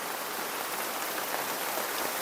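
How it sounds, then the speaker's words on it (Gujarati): Heavy rain pours down steadily, a dense, even hiss of drops striking surfaces all around with no pauses and no voices. "હારામાં હારો વરસાદ પડ્યો"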